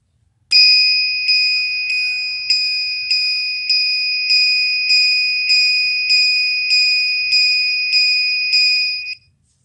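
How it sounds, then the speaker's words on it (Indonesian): A loud electronic buzzer, modified to sound like an alarm in a motorcycle touch-switch security circuit, beeps in a fast, regular repeating pattern of high tones, continuing steadily for several seconds before cutting off. "Kita akan memodifikasinya suaranya menjadi seperti suara alarm seperti ini."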